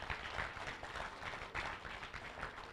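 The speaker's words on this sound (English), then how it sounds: "give them a round of applause" An audience at a Ministry of Labour and Social Security roadshow event in Manchester gives a round of applause, a steady, dense wash of many hands clapping at moderate volume with no voices over it.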